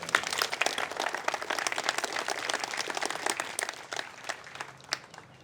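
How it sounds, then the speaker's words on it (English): An audience applauds at a Vietnam Army monument unveiling, steady dense clapping from a crowd at moderate distance that holds for several seconds before thinning slightly toward the end. "A round of applause for Tony, please."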